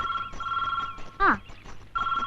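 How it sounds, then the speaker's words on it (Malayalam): A telephone bell rings in a Malayalam film scene, a steady electronic trill that breaks off briefly around a short, sharp sound and then resumes, with no talk over it. "ഫോൺ ബെല്ലടിക്കുന്നു."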